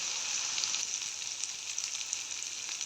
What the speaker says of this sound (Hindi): नॉर्मल आंच के ऊपर इसको फ्राई कर लेंगे थोड़ा सा